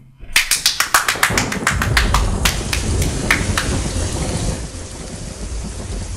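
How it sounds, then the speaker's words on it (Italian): A thunderstorm with rain opens with a rapid run of sharp taps and cracks, then settles into steady, dense rainfall with low rumbling, loud and close, and no talking. "C'è il temporale."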